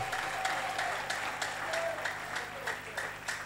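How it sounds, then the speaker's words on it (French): Church congregation applauding during a Sunday sermon, steady mid-level clapping with faint voices and occasional shouts throughout, continuous for the whole stretch. "Applaudissons très fort."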